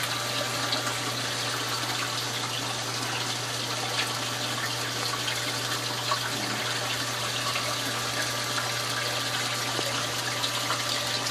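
A Gbo DC 12,000 aquarium pump runs steadily in a home reef tank, giving a constant mechanical hum under a continuous wash of moving water, loud and even with no voices.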